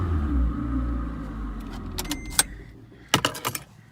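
Keys jangle near a Scion tC as its engine is shut off, a low idle rumble fading out, followed by a few sharp metallic jingles and clicks.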